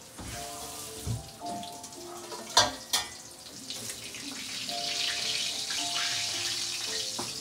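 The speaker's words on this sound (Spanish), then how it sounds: "Le cayó agua." Water running from a kitchen tap into a cooking pot for spaghetti, a steady close hiss and splash with a couple of sharp clanks of the pot partway through.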